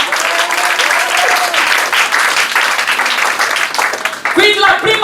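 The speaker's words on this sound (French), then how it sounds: "Acclame pour Jésus." A congregation at a night vigil church service breaks into loud, sustained applause, dense clapping throughout with a voice briefly heard near the end.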